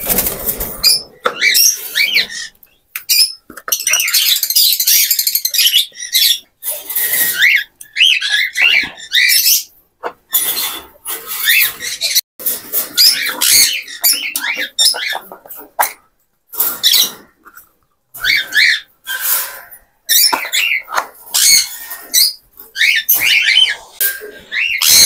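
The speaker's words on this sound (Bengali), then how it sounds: "আপনারা দেখতে পাচ্ছেন আমার পাখিগুলো খাচ্ছে" Pet birds chirp and tweet busily while pecking at soft food, bursts of high, bright calls crowding close together with brief pauses and occasional rustling.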